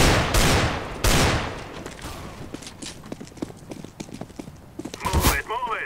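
Video game gunfire comes in sharp cracks, two loud shots early and then scattered lighter pops throughout, with an excited voice cutting in near the end.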